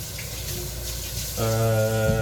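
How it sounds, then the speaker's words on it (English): Hands are washed under a running kitchen tap, with a steady hiss of water that grows fuller and louder midway as the flow hits the hands, alone and close by. "I'm gonna wash my manos."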